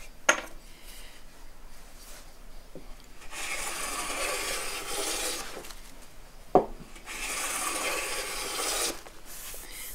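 A Woodriver block plane takes a light, waxed-sole shaving off a wooden board in two long rasping strokes, each opened by a sharp knock of the plane touching down.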